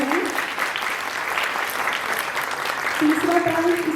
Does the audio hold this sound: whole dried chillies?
no